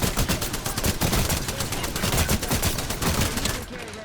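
Kraber sniper rifle fire in a video game comes as a loud, dense volley of overlapping gunshots close up that continues almost without a break for several seconds, with no speech.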